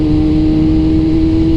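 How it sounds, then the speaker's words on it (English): A 1999 Yamaha R6 sport bike's high-revving inline engine drones loud and steady, holding a constant pitch with no rise or fall, close to the listener and alone without voices. "everyone says it's a very high revving engine"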